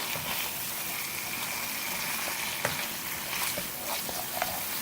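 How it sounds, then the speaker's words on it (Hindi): Mutton with masala fries in a pan over a medium flame, a steady close sizzle and crackle with occasional stirring clinks and pops, no talk. "अब मीडियम फ्लेम पर भूनेंगे।"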